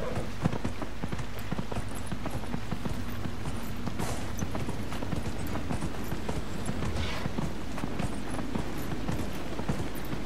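Horse hooves from the video game Dragon Age: Inquisition clatter in a fast, continuous galloping rhythm, loud and close, over steady mechanical and creaking noise with no voices.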